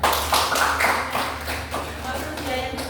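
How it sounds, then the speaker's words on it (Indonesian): Classroom applause for a student: a burst of many hands clapping together, close and full, lasting about three seconds, with voices mixed in. "Beri tepuk tangan untuk Christine ya."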